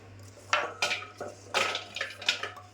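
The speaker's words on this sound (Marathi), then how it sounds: "भेंडी कापून झाली तर आता मी ना काढून घेते एका भांड्यात." Cut okra pieces tumbled into a metal bowl with several light clinks and rattles of pieces and utensil against the vessel, close and fairly quiet, no talking.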